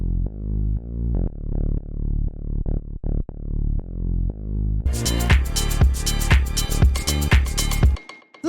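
Bouncy synth bass line in a deep house style, plucked notes repeating in a steady rhythm, soloed at first, then joined by a full, bright mix with drums for the final few seconds.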